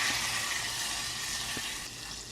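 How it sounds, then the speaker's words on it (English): Butter melting in a hot pan for a rum sauce, a soft steady sizzle and hiss close by, fading slightly toward the end, with no talking. "Go ahead and add our butter. Let that melt, turn it down."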